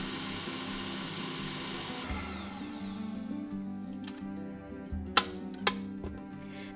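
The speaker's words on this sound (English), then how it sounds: "Add 3 egg whites to a large bowl or to your mixer and whisk until you get stiff peaks." An electric mixer whisks egg whites toward stiff peaks for amaretti cookies, a steady motor whir that drops in pitch partway through, with a couple of sharp clicks near the end and no voices.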